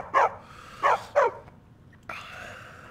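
A dog in the video game Skyrim lets out three sharp, close barks in quick succession, followed by a quieter tonal sound.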